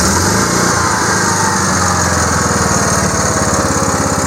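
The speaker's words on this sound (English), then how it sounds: "This generator's old, but it's one of them that's got that automatic idler on it, so it'll just run quiet as a mouse right there" A Honda generator, an older unit with an automatic idle control, runs steadily at idle with a continuous, even engine drone and a fast low pulsing throughout, close and loud with no talking.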